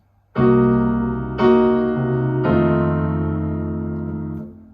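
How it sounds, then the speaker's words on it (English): Guitar playing a half-diminished chord, then a dominant seventh chord, three strummed chords in all, each ringing out and sustaining before fading, close and clear with no talking. "Now half diminished is usually followed by a dominant 7th chord."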